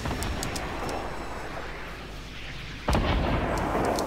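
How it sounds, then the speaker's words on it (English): Explosions in the Fortnite video game blow apart a fort: dense, loud rumbling blasts with crackling debris, jumping to a sharper, heavier burst partway through. "I totally destroyed that fort."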